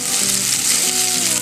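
Chopped potatoes and onion sizzle steadily in a hot pan, a dense continuous crackle filling the brief moment, close and fairly loud with no voices.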